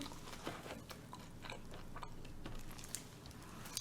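Chewing on a crispy fried chicken wing, a Goobne Gochu Basasak spicy fried chicken, sounds as faint, close munching and a few sharp crunchy clicks over a steady low background, with no speech.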